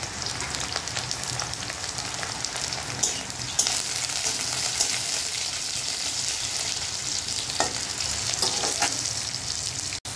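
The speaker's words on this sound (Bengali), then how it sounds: "এবার দিয়ে দেবো টমেটো কুচিগুলি" Chopped tomatoes frying in a pan, producing a steady, dense, close sizzle like rain that carries on throughout, broken by a few stirring scrapes.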